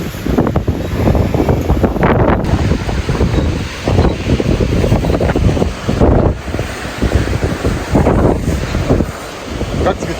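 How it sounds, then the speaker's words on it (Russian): Strong, gusty wind blows beside the Volga River at speeds up to 15 m/s, buffeting the microphone with a loud, rough roar. The wind rises and falls in surges throughout. "Ветер так вот идет."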